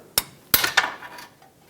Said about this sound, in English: just put a pry bar right up against it and tap it with a hammer